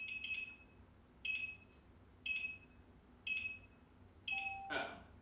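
A Gotway MSP electric unicycle powers on with a series of five bright chirping beeps spaced about a second apart, close and clear, ending in a brief sustained tone.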